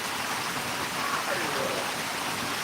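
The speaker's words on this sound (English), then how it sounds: "it's the waterfall feature that I wanted to share with everybody" Small garden waterfall feature pouring steadily into a fish pond, a continuous close rushing splash of water with no break.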